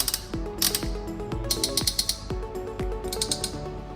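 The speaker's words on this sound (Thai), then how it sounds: "ข้างล่างก็จะเป็น สวิตช์หมุนๆก็จะมีเสียง" Rotary knob switches on a toy kitchen set being turned, giving rapid plastic ratcheting clicks in several bursts, close and fairly loud, with sharp tonal plinks between them and no voices.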